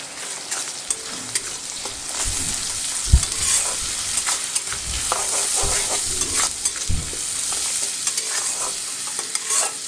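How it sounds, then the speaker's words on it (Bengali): Spice paste with Kashmiri chili powder, turmeric and salt fries in oil for an egg curry, a close steady sizzle with repeated scraping and thumping stirs of a spoon in the pan, no talking. "মশলাটা আমি ততক্ষণ কষিয়ে নেব যতক্ষণ না মশলা থেকে একটা তেল বেরিয়ে আসে।"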